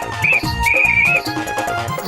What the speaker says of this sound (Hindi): अब मैंने सीटी बजाई